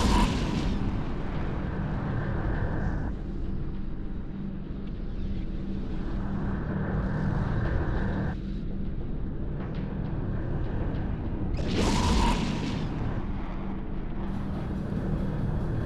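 A big ship, a Raven, explodes in the EVE Echoes space game, a deep rumbling blast that swells and holds with layered roaring tones and a sharp burst near the end, without speech.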